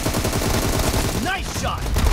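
Rapid automatic gunfire in PUBG Mobile team deathmatch, a loud, continuous stream of close shots with a brief thinner stretch partway through.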